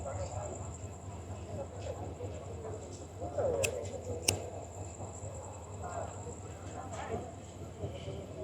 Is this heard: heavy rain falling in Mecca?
no